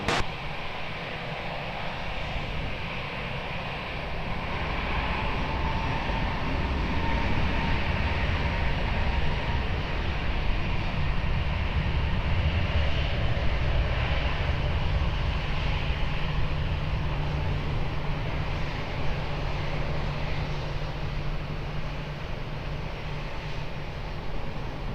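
A jet airliner on takeoff from runway 20 at Lisbon Airport gives a sustained, steady engine roar that builds slightly and holds for a long stretch, broad and distant-sounding with no talk.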